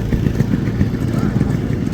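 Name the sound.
Yamaha RX two-stroke motorcycle engine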